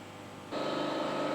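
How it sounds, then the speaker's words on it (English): Automatic water pumps in a lighthouse boiler room starting up, a steady electrical hum that jumps abruptly to a louder, brighter whine and keeps running, close and continuous. "The noise now on is automatic pumps pumping up the water."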